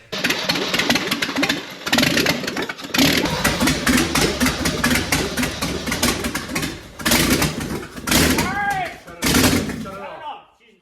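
An old project car's engine, run without headers, cranks and fires into a loud, rough, popping run with sharp bangs and surging revs before cutting off; voices call out near the end.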